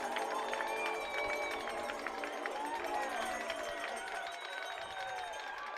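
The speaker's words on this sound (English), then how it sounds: "And this crowd is coming unglued" A baseball crowd roars and cheers at a ballpark after a home run, with a loud, steady crowd noise under an announcer talking.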